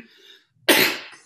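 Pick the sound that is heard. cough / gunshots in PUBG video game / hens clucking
cough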